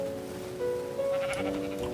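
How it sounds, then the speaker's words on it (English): Sheep bleating in the Minecraft video game, several calls from a flock rising over a steady bed of heavy rain, fairly close and clear with no talk. "It's got like the whole flock of sheep here."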